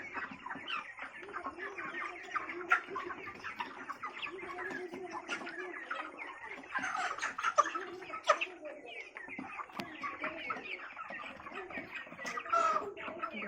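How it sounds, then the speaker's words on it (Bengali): Broiler chickens around five weeks old on a poultry farm cluck and chirp in a busy, overlapping chorus, close and fairly soft, with scattered sharper calls throughout. "দেখো কত বড় হয়ে গেছে মুরগিগুলো"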